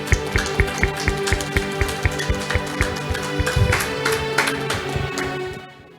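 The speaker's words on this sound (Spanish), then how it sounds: "Un aplauso al Señor." A church congregation claps in a steady, quick rhythm over background music; the claps are loud and close, then the sound fades out at the end.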